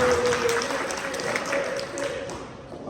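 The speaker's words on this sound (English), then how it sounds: "please get a round of applause to our board president for being such a good leader" Audience at a board meeting applauding, a burst of clapping with a steady tone and voices mixed in, fading gradually over a few seconds.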